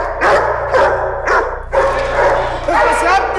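Several dogs bark loudly and repeatedly in short bursts, close by and agitated, with a low steady hum beneath and some yipping mixed in.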